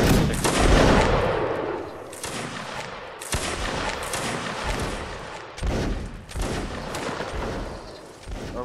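Musket line infantry volley fire in the Mount & Blade line battle game, with repeated loud cracking gunshot bursts rolling across the whole stretch and several sharp volleys standing out over a dense crackle of scattered shots.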